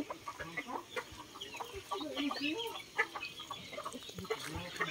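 Chickens cluck steadily in a farmyard while hens are fed, with a rooster's calls mixed into the busy, close flock chatter.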